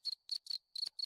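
A cricket chirp sound effect played from a Discord soundboard: five short, shrill, buzzing chirps in an even rhythm, close and clean with silence between them and no talk.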